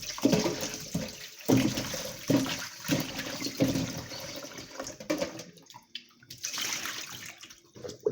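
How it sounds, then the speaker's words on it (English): Water runs and splashes as fresh ginger root is washed, a close, uneven gushing with pulses and short pauses, then resuming strongly near the end. "I'm washing my ginger 3 times to make sure my ginger is properly washed."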